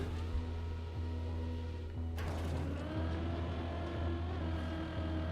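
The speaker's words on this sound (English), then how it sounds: "The sounds this car makes, they're incredible." A video game car engine hums at a steady low idle tone, then a harsh mechanical surge and rattle kicks in midway and continues as a rough drone with light clunks.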